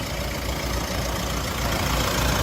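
Mitsubishi Pajero All New Dakar with a 4N15 diesel engine idling under the open bonnet, a steady close rumbling drone with dense even noise and no voices.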